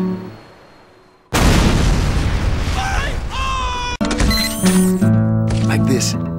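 An animated heavy-caliber tripod-mounted gun opens up after a quiet lead-in, with a loud blast followed by a dense burst of booming shots and ringing metallic mechanical tones that continue to the end.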